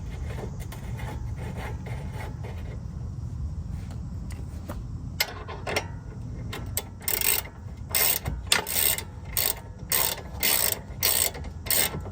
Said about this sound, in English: I'm going to go ahead and tighten up that nut.